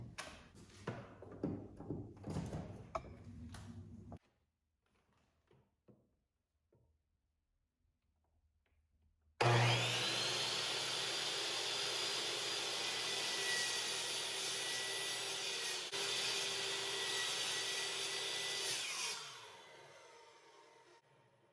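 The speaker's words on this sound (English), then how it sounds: "now cut where the line is using the miter saw." A miter saw cuts PVC pipe: after a few light clicks and handling knocks and a short pause, the motor starts with a loud close whine that holds steady for about ten seconds and then spins down.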